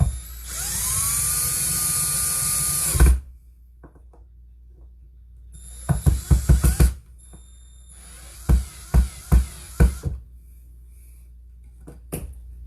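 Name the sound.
drilling into a wooden board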